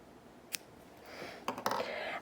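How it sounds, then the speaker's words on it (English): Scissors snipping crochet yarn nearby, heard as a faint isolated click followed by a few quick crisp snips and soft rustling in a quiet room. "now we are actually going to cut our yarn."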